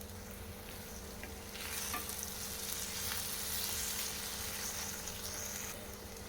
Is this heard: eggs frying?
yes